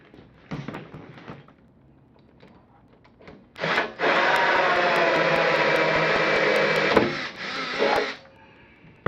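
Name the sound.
drilling a hole in wooden barrel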